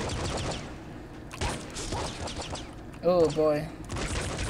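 Rapid bursts of gunfire from weapons in the top-down shooter game Nuclear Throne crackle and pop in quick succession, with a man's brief spoken exclamation partway through.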